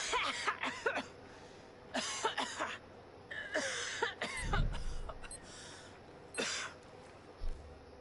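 A sick woman in Ghost Recon Breakpoint coughs in a series of harsh, close bursts, some grouped in quick clusters and separated by short pauses, with a low thump partway through.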